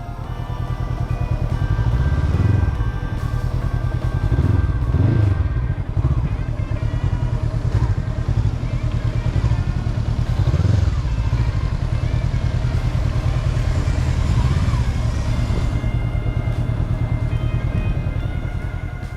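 A Honda CBR500 Hornet motorcycle is ridden with a steady, close engine drone that rises and falls with the throttle, under a constant rumble of wind and road noise.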